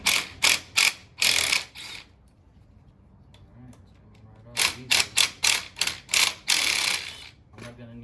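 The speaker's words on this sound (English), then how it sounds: "Locking bolts out. Get these guys out." Ratchet wrench removing locking bolts during a chain conversion on a Harley-Davidson Low Rider S Milwaukee 8 Softail, heard as rapid bursts of close clicking in two groups separated by a quiet pause.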